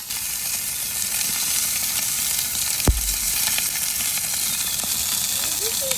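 Steak searing in olive oil in a hot pan gives a steady, dense sizzle throughout, loud and close, with one sharp knock partway through as the meat or pan is handled.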